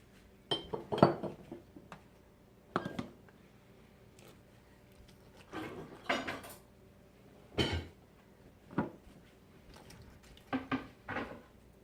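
Sauerkraut packed down into a glass jar, a series of irregular thumps and glassy clinks as a tool presses the cabbage, spaced with short pauses and fairly close.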